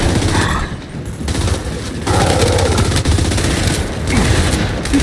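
Rapid bursts of Gears 5 video game gunfire, automatic weapons rattling almost continuously with brief lulls, loud and dense throughout.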